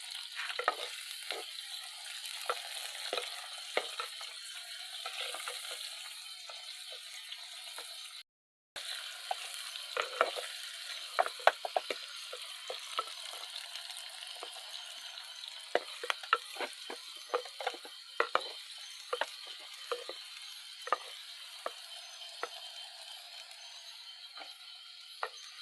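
Garlic and onion for a traditional Sri Lankan dish fry in a pan with a steady close sizzle, while frequent scraping clicks of a spoon stirring the mixture sound throughout, with no talking.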